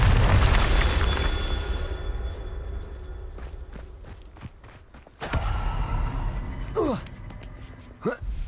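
A Bombarda spell explosion in a Harry Potter video game, heard as a loud burst with rumbling decay followed by scattered thuds, footsteps, a renewed boom and short whooshing effects.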